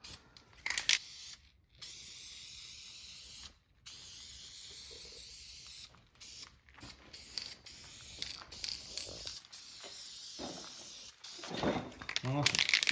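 A 2JZ engine block being spray painted in a home garage, with bursts of aerosol hiss starting and stopping over clicks and rattles of handling, close and moderately loud.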